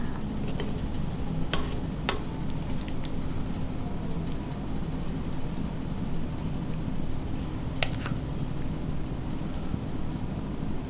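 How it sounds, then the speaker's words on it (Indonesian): Bakwan batter poured into a hot pan and cooking without oil, giving a steady close-up sizzle with a low rumbling bed and a few faint scraping clicks, no voices. "tuang adonan"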